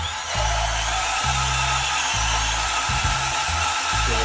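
A Milwaukee M12 FUEL compact band saw cuts through metal strut, its blade giving a loud, continuous close-up whir with a low hum that stutters in regular pulses as the cut goes on.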